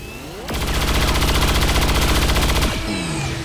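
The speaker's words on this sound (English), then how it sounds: "Beam cannon!" Beam cannon firing in XCOM 2, a loud continuous roaring energy blast with a rapid pulsing buzz, lasting about two seconds before cutting off into a whooshing tail; no speech.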